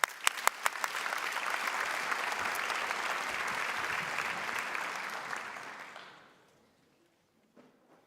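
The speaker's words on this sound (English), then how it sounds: "please a round of applause for Professor Barroso, Board Chair of Gavi, the Vaccine Alliance" A summit audience bursts into sustained applause for the board chair of Gavi, the Vaccine Alliance, opening with a few sharp claps, holding steady for several seconds, then fading out into near silence.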